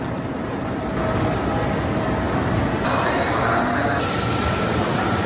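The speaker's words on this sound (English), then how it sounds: "here comes our train" A train rumbles into a station with steady, loud mechanical noise and hissing, the sound shifting as it pulls in, with no clear talk.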